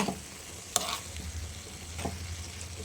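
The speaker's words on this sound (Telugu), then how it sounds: "చూడండి ఫ్రెండ్స్ ఎట్లా ఉడుకుతుందో" Food simmers and sizzles in a pan, a steady close frying hiss with a couple of stirring clinks, no talking over it.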